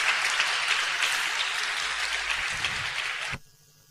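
A church congregation applauds with dense, steady clapping for about three seconds, then it cuts off abruptly into quiet.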